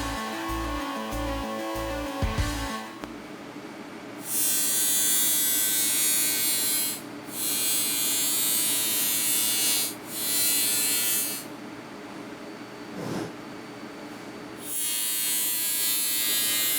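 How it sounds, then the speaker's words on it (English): An angle grinder grinds out a split seam on the frame of a 1966 C10 pickup, running in long loud steady whines with brief pauses between passes after a few opening knocks. "So we're going to grind this completely out, and we're going to re-weld this whole seam"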